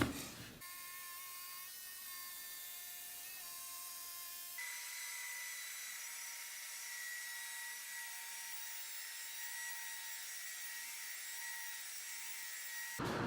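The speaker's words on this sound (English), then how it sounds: "and then you sand that nice and smooth." A cut MDF door edge for a supercharger build is sanded smooth by hand, a steady rubbing scratch that runs continuously close up, with no talk.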